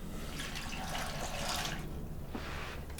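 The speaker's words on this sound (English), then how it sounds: "And water." Water pours into a blender jar holding chopped whole apple and greens for a green smoothie, a steady splashing rush that swells and fades, then a short second pour.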